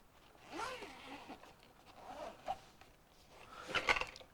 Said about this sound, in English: just zip her up